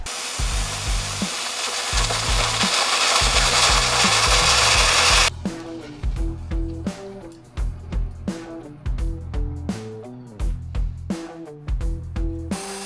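A circular saw bites through wood logs in a series of loud, rasping cuts for about five seconds, then stops and rhythmic music with steady beats carries on.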